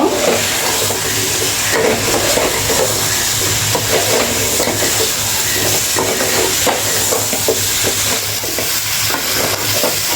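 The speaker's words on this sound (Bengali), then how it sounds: "এবার দিয়ে দিচ্ছি কুমড়োটা কুমড়োটা দিয়ে আর একটু ভেজে নেব" Pumpkin frying in a pan with dried shrimp produces a loud, dense, unbroken sizzle and hiss, close up, with faint stirring movement underneath for the whole stretch.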